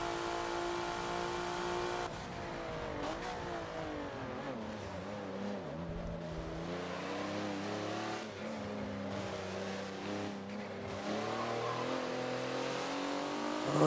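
A race car in the Forza video game laps the Yas Marina South track with a continuous engine drone that rises and falls through gear changes and revs, steady and close throughout.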